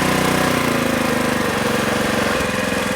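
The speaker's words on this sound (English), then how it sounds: "Throttle down a little bit before you shut off the engine." A log splitter engine runs steadily at throttle, a loud continuous mid-pitched mechanical drone with a rhythmic chugging pulse throughout.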